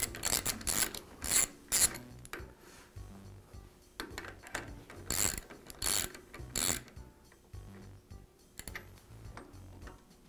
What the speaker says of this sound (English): Now I'll place the second nut onto the spindle. And I'll tighten it up against the first.